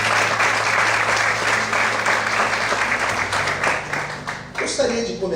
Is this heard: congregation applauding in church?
yes